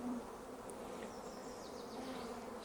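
Honeybees buzz around an opened beehive during an inspection, a faint, continuous droning hum with a few individual bees passing closer.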